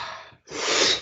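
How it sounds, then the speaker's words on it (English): A deep inhalation during a breathwork session, a brief pause followed by a long, full breath in that swells and stays loud to the end, close and with no talking. "Breathing in through the pelvic floor"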